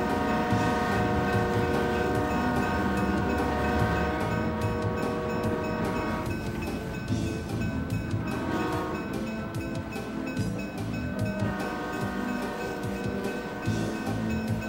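A train rumbles past up close with steady rolling clatter and sustained horn tones over it, loud throughout with no voices.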